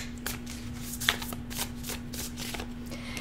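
Tarot cards being shuffled during a reading: a steady run of soft riffling and slapping card sounds with one sharper snap near the middle, over a constant low electrical hum, with no one talking.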